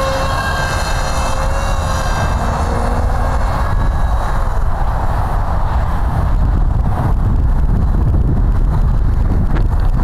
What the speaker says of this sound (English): I think the wind direction's all over the place.